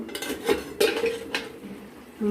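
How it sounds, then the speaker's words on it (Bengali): A metal pan lid clanks and scrapes as it is lifted off a pan of fish cooking in mustard-poppy seed paste, with a few sharp close clinks of metal on metal. "দিয়ে ঢাকনা খুলে দেখব"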